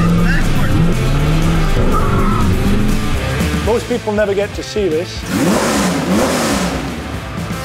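A car engine revs hard with loud tire squealing and skidding, close and continuous, with engine pitch rising and falling as it accelerates, while someone talks over it.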